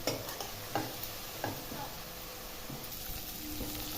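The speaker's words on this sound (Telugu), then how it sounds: "పుదీనా పేస్ట్ పచ్చివాసన పోయేలా బాగా వేగిపోయింది" Mint paste frying in a pan with rice-cooking preparations, a steady hissing sizzle with occasional scraping taps from stirring, close and continuous.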